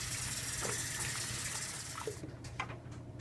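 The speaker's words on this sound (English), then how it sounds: "Then rinse with hot water." A tap runs hot water while hands are rinsed under it at a sink, a soft steady gush that splashes unevenly and breaks off partway, leaving faint drips and quieter trickles.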